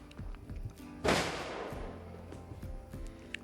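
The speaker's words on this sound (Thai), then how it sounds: "ตอนนี้เริ่มจุดประทัดกันแล้ว" A firecracker set off to welcome the New Year bursts once with a sharp, loud bang and a fading rumbling tail, surrounded by quieter scattered background noise.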